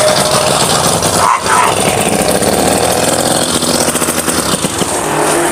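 A classic 200cc motorcycle engine, started by pedal with the clutch pulled, fires up and runs with a loud, steady, rattling idle close by.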